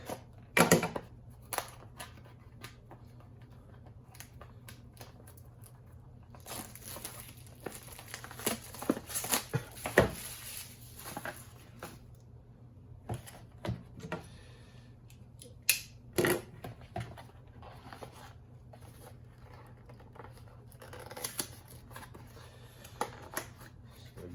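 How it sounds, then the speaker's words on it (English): Plastic-sealed tool packaging being cut and pulled open, with close, irregular snips, crinkles and rustles scattered throughout and a few sharper clicks. "So this one is actually sealed in the plastic. So we'll just cut this open real quick."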